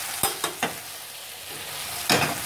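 Chicken breast steaks fry in a pan, giving a steady low sizzle broken by a few short scraping stirs near the start and another burst near the end, close and clear.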